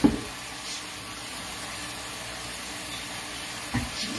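Steak picado cooking in a pan, the meat steaming after meat tenderizer goes on: a steady soft hiss and sizzle that runs throughout, with a couple of brief clatters near the start and the end.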